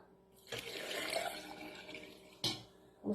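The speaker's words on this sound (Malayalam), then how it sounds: "എല്ലാം വാരി എന്താ കുറച്ച് വെള്ളം ഒഴിച്ചു കൊടുക്കാം" Water poured from a container onto crushed lemons, a splashing pour that starts abruptly, runs about two seconds and then stops, followed by a couple of short sharp splashes or knocks.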